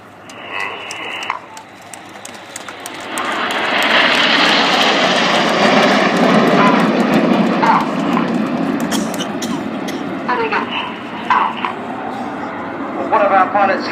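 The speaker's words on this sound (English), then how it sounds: "In commemoration of the 70th anniversary of the Dambusters, this is Lancaster." An Avro Lancaster bomber flies past at an RAF airshow display, its piston engines swelling into a loud, droning roar that peaks mid-pass and slowly fades, with crowd chatter and an announcer heard under and around it.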